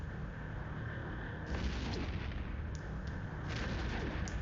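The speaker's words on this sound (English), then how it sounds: "got explosions all over the place." Space battle explosions in the mobile game Eve Echoes, a dense, continuous rumbling barrage of booms and crackling blasts that swells louder midway and keeps rolling throughout with no pauses.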